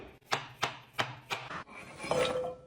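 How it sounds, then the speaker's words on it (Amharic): Carrots are chopped into small pieces with five crisp, evenly spaced knife strikes on a board, close and fairly quiet, followed by a brief scraping rub. "ለመፍጨት አነሳ አድርገን እንከትፈዋለን"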